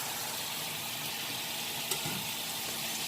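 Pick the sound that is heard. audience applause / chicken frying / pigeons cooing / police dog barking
chicken frying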